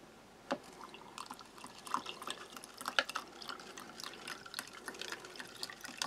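Cold water poured into a tropical-flavour drink mix from a British Army ration pack, a soft trickling and dripping of liquid with small splashes, fairly quiet and close, with no talk over it.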